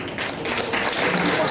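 Audience applause for quiz winners at a Shakespeare birth anniversary event, a steady, dense wash of clapping from a crowd that swells slightly and holds throughout.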